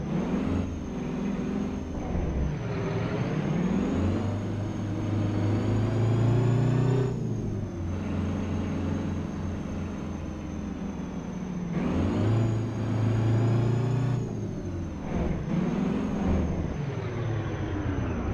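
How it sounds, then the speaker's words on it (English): A custom Peterbilt truck in American Truck Simulator revs up and down in repeated waves, its engine rising and falling in pitch, with a distinctive engine brake rasp and a high whine overhead throughout. "The exhaust valve, the engine brake sounds different on this one."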